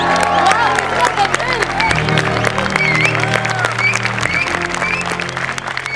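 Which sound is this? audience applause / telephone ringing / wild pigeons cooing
audience applause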